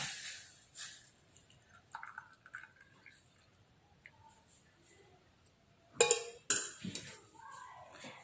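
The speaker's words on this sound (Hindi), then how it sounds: "अब ये काढ़ा बन गया है फ्रेंड्स, हम इसे छन्नी की मदद से छानते हैं।" Herbal kadha decoction is strained through a sieve into a cup, with soft trickling and scraping followed by a few sharp metallic clinks of utensils near the end, quiet and close.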